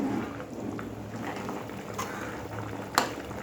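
Taro pieces bubble gently in a pot of boiling water, a soft continuous simmer with faint liquid gurgles and one brief knock near the end, no talking.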